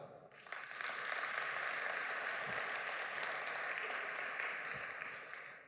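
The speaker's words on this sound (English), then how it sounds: "Round of applause, please, for everything that the organizers have done." A keynote crowd at the Global AI Summit 2022 applauds the summit organizers, sustained, even clapping that swells within the first second and holds steady for several seconds before easing slightly, with no speech over it.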